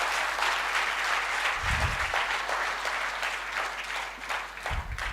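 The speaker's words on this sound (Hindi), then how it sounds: "ताली बजानी है तो जोरदार बजाओ" An audience claps together in a hall, with two loud bursts of dense applause and a softer wash of crowd noise between them.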